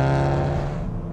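A turbocharged Ford Focus or Fiesta ST pulls under acceleration with a steady, droning engine note heard from inside the car, moderately loud and brief, without talk.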